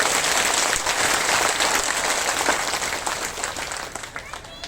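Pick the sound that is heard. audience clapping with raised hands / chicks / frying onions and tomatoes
audience clapping with raised hands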